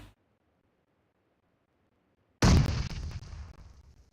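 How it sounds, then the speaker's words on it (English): A grenade bounces and detonates in the PUBG Mobile battle royale shooter during a tournament match: a long near-silence is broken by one sudden loud blast that rumbles and crackles as it slowly dies away. "that bounce nade from Gaddafi"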